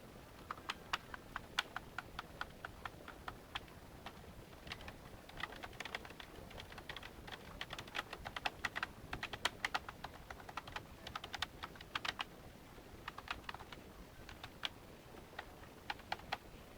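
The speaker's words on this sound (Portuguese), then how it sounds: "Vou colocar aqui para escrever para testar o teclado." Rapid, irregular keystrokes on a USB keyboard plugged into an Android 2.3.4 smartphone, close and crisp, in bursts with brief pauses and no voices.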